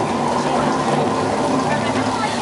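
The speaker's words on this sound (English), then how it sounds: "the water's being shot directly up into the air first, so it can fall down in a nice natural rain pattern" Artificial rain from sprinklers on a Universal studio film set, water shot straight up so it falls back as large drops, making a steady, loud, dense hiss and patter throughout with no break.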